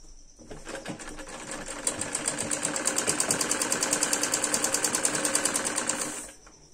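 A sewing machine stitches piping along a salwar piece, running in one steady burst of rapid, even clattering that starts up, holds for several seconds and winds down, close by with no talking.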